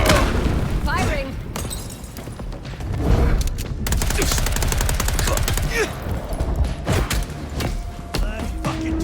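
Bursts of automatic gunfire and heavy booms in Vampire: The Masquerade - Bloodlines 2, loud, dense, repeated volleys with thuds, mixed with shouting voices throughout.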